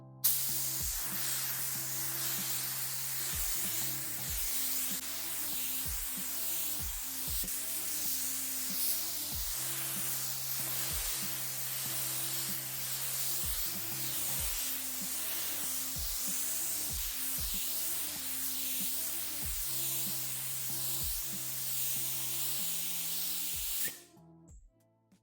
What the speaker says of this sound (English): first I'm going to spray some of this Junkin Silver over the black